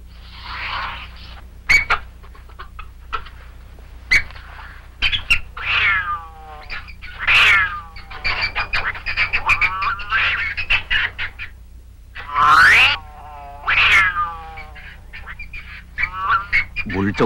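Domestic cat fighting a marten, with loud yowls, shrieks and hisses in bursts of caterwauling, close and harsh, separated by brief pauses.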